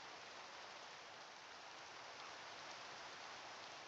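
Rain falls steadily in the Minecraft video game, a soft, even hiss of drops on surfaces that continues unbroken and very quietly, with no voices.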